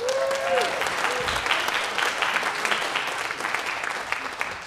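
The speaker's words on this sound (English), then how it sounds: "give him a round of applause" A church audience gives a warm round of applause for a volunteer called up during a sermon, dense clapping with a brief voice at the start, slowly thinning out.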